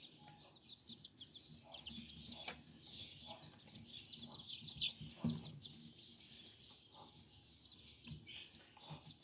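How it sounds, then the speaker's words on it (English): Young chicks and little roosters in an indoor pen, a faint, continuous chorus of high peeping and soft clucking close by. "I have a little roosters and chickens in here."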